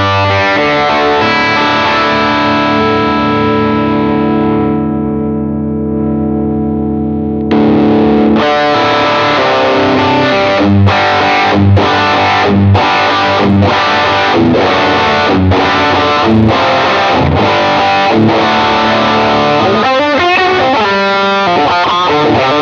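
Electric guitar through two stacked overdrive pedals, loud and distorted: a long sustained chord rings out and fades, then a run of rhythmic chopped chords and a busier riff, with no talking.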